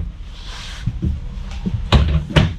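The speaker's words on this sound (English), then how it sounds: "they glide very smoothly" Drawers in a 2021 Winnebago Spyder S30MAX toy hauler travel trailer slide along their runners with soft rolling sounds, then shut with two sharper thuds near the end, close by.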